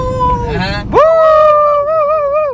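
Dog howling or whining near a roadside, a strained high tone that drops, breaks off briefly, then rises into a sustained wavering howl.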